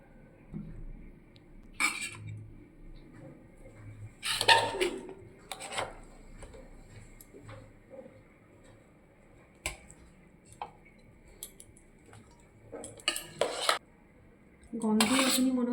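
A spatula scrapes and clinks against a cooking pot while rice with chicken and potato is scooped out: scattered metallic knocks and scrapes, close by, in irregular bursts with quiet gaps between them.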